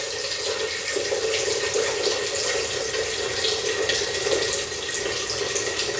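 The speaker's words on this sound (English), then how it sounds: "What I'm trying to do is pour off most of this." Water pours steadily into a kitchen sink while pickles are being made, draining off in a continuous, close rushing stream without talk.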